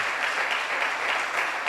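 A church congregation claps loudly and steadily during a sermon, a dense continuous wash of hands with no voices on top.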